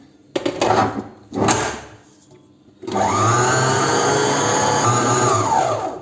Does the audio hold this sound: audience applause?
no